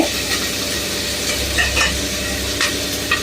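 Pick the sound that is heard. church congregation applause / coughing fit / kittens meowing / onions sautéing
onions sautéing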